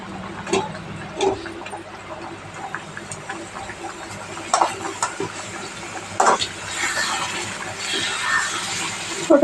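Mango pickle sizzles and spits in hot oil as it is stirred, a steady close frying hiss broken by sharp scraping and clattering strokes of the spoon against the pan.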